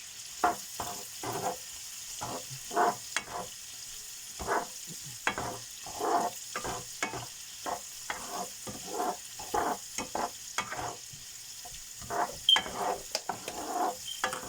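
Prawns fry in a pan in a home kitchen while being stirred, giving repeated scraping and stirring strokes over a constant soft sizzle.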